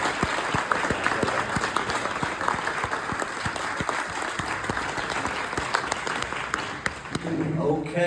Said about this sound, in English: Can we give a massive round of applause to the Northamptonshire County Horn Ensemble?